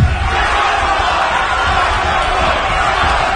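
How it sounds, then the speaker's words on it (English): A wrestling arena crowd at an Impact event roars steadily throughout, a dense, loud wall of voices that may carry a chant, with no single voice standing out. "Listen to the crowd. You hear what they're calling for?"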